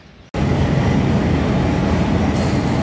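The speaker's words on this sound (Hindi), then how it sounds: "अभी मैं रावलपिंडी रेलवे स्टेशन पर हूँ" A train at Rawalpindi railway station in Pakistan rumbles loudly and steadily nearby, a dense broadband roar of wheels and carriages that starts abruptly and holds for the rest of the moment, with no voices.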